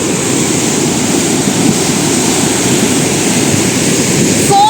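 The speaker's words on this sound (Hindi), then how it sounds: "पत्थरों के बजने की तक आवाज़ आ रही है इसके अंदर।" A swollen, flooded river rushing hard, with stones knocking along its bed, forms a loud, steady roaring wash that holds unbroken throughout.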